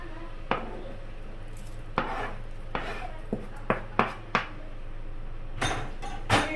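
Sautéed garlic and spring onions being mixed in a bowl for beef meatball broth, with sparse sharp utensil clacks and taps against the bowl at irregular intervals over a quiet background.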